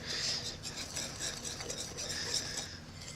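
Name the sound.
mixing pumpkin bread ingredients with extra cinnamon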